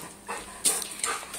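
A dog gives a few short barks and whimpering yelps while begging for a cheeseburger, fairly close but not loud, with no talk over it.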